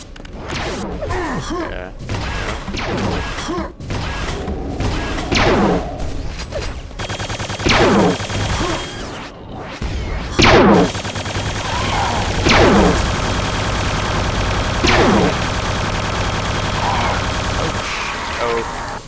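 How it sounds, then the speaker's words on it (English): Gunfire from a boss enemy in Quake 2 comes in repeated loud bursts and thumps spaced a couple of seconds apart, over steady game noise, with a brief voice muttered once. "Oh, it's the boss up there shooting shit out of me."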